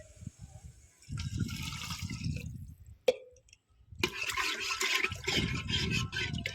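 Water splashes and gurgles into a cooking pot of potatoes in two pours, separated by a short sharp clink and a pause, close and fairly quiet.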